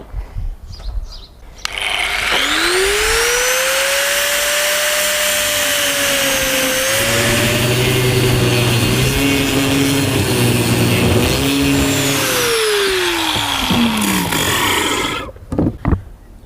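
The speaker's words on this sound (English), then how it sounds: "Just sanding them back so they're a little bit more tapered." A power sander on metal whines loudly and steadily for about thirteen seconds, its pitch rising at start-up, dipping under load in the middle, then winding down, with no talk.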